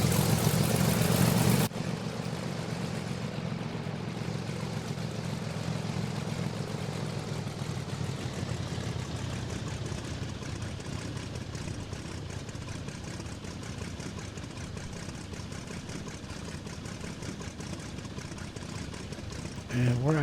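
An L-19 Bird Dog light airplane taxis with a continuous piston engine drone heard from inside the cabin, loud and steady throughout after an abrupt shift in tone near the start.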